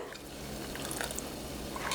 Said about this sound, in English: we're going to take our milk that we heated up and slowly pour that in